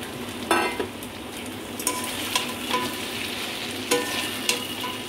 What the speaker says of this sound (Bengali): এবার আমি ভেজে রাখা বড়া পটল সব দিয়ে